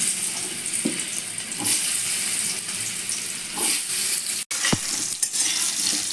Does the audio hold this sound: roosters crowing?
no